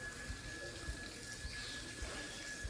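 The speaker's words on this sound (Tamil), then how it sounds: "மரத்துக்கு தண்ணி ஊற்றிட்டு" Water steadily poured and splashing onto a tree at an old temple, a continuous faint wash of flow with soft irregular thumps underneath and a steady thin tone running through it.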